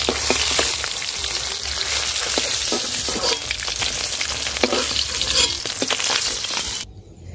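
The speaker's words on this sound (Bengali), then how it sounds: "বাকি মাছগুলো ভেজে নেব।" Rohu fish pieces frying in a pan, a dense crackling sizzle with sharp pops and spatters throughout, fairly loud and close, stopping suddenly at the end.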